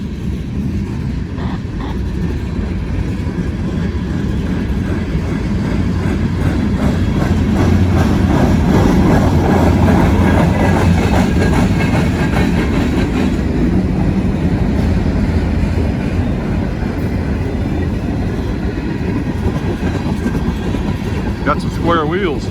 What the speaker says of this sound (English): there was a big flat spot on a car covering part of the sound up